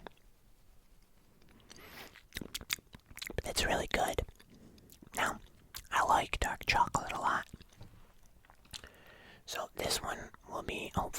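Gourmet black licorice candy from Denmark is chewed close to the microphone, giving soft, sticky, squishy bites and chews. Whispered talk comes in between the chewing sounds.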